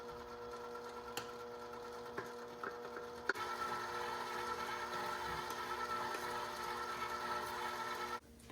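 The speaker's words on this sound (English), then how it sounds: "I'm switching over to my dough hook before we add in the flour so that I can knead the dough" A KitchenAid stand mixer works a bread dough with its dough hook, giving a steady, close whirring motor hum with a few sharp clicks just before it settles into a louder continuous run.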